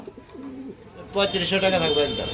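Fancy pigeons at a bird market give soft repeated coos and throaty calls close by, blending with market chatter in the background.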